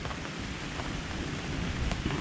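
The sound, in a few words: thunderstorm with rain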